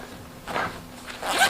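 Zippers on a laptop backpack with a USB charging port slide open in two quick, smooth rasping pulls, close and fairly quiet, with no talking.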